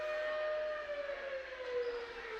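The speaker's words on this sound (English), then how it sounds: "Sirens are going off." A siren wails outside, a long falling tone that sounds distant and moderately faint, heard at a basketball game in Caney with no talking over it.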